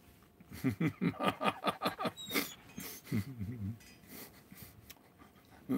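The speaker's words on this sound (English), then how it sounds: "What are you whimpering about, Jack?" A dog whimpers and pants in a rapid run of short, close, high-pitched whines, pausing briefly before a second, softer burst of whines and breaths.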